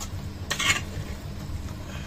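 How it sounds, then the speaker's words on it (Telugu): Chicken being stirred in a metal cooking pot: one brief clattering scrape of a utensil against the pot rises over a low background hum, then fades. "చికెన్ దాన్ని వేసి బాగా మిక్స్ చేయాలా"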